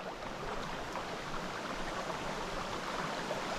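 A small Appalachian brook trout creek flows steadily, a constant broad rushing and gurgling of water close by, even in level with no voices over it.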